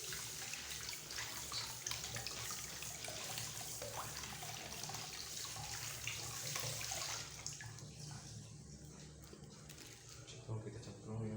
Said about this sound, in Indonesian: Kita cuci dulu kacangnya.